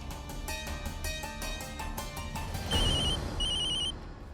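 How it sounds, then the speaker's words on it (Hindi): A telephone rings in a Hindi TV drama scene, a repeated electronic ringtone with two bursts of trilling tones over background music, fairly loud and close. "अरे मामी जी का फोन।"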